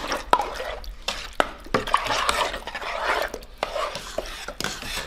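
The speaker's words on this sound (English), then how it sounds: "we are officially at a boil that I cannot stir down" Dandelion jelly at a hard rolling boil in a pan, a dense bubbling and popping with scattered sharp clicks and taps, close and continuous throughout.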